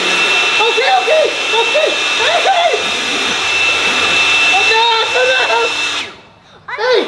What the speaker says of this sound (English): Where did you get these leaf blowers?